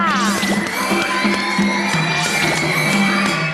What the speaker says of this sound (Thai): ขอเสียงปรบมือให้กับฮาราจูกุด้วยค่ะ